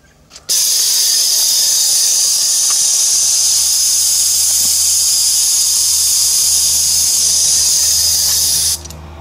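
Homemade blast gun firing compressed air through a 7mm nozzle, one loud, sustained roaring hiss lasting about eight seconds, starting and cutting off abruptly.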